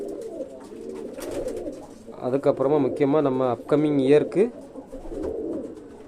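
Pigeons kept in a loft coo softly after being fed, their low rolling calls surfacing beneath someone speaking steadily close by.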